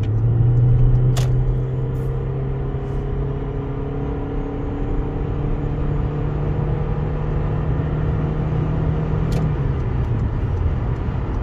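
A Toyota hybrid car engine hums steadily as the vehicle speeds up from 40 to 110, a low drone rising slowly in pitch under constant road rumble, with no talking.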